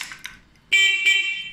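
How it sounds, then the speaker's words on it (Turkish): Horn of a Kuba X-BOSS 50cc motorcycle gives one loud, steady electric honk lasting about a second, with a slight dip midway, after a brief quiet rustle. "Kumandalarda arkadaşlar bakın burada korna var."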